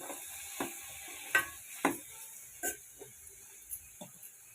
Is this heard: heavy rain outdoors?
no